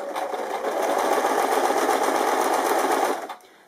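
A sewing machine fitted with a bias binding foot runs steadily, stitching bias binding onto fabric in one continuous fast whirring burst at close range before slowing to a stop.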